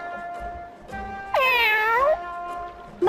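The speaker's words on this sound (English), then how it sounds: "what's with the cat?" A cat in the video game Bravely Second lets out one clear, drawn-out meow, loud and close, over a soft game music background.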